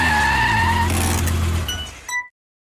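A McLaren GT's engine roars loudly up close, its exhaust note climbing in pitch as it accelerates, then cutting off abruptly after a final crackle.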